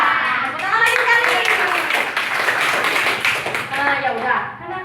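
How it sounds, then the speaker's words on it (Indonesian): A class of nursing students claps together in a classroom: a sustained round of dense, overlapping hand claps, loud and near, with voices talking over it throughout. "Tepuk tangan lagi sekali."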